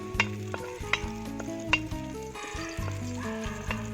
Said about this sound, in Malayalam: ഇതിലേക്ക് നമുക്ക് തൊലി കളയാതെ ചതച്ച് വെച്ച വെളുത്തുള്ളി ചേർത്ത് കൊടുക്കുക